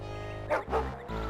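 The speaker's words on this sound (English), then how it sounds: "I would not get near that dog if I were you, Jim. It's suffering from rabies." A dog barks in the Star Trek Judgement Rites video game: two short, close barks followed by a lower growling whimper, alone without talk.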